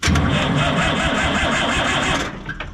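An old John Deere diesel crawler loader, pulled from a scrapyard, cranks at full throttle with a loud, rapid, rhythmic churning from close by, then stops abruptly near the end.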